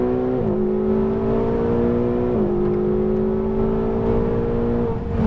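A Ferrari 488 GTB engine revs steadily at high pitch, dipping briefly twice as gears shift, then pulling hard again under full throttle; loud and close, no voices.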